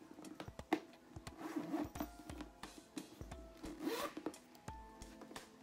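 A Louis Vuitton Speedy 30 handbag zipper being slowly drawn open in several short rasping pulls, close up and fairly quiet, with no talking.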